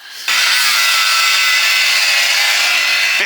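A power tool cuts through rusty bolts beneath a crash-damaged tri-axle trailer, a loud, close, unbroken grinding roar that starts abruptly and runs steadily to the end.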